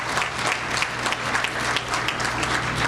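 A dinner audience at a Morehead State University alumni awards event applauds Alumni and Athletic Hall of Fame honorees, steady, moderately loud clapping from a room full of people.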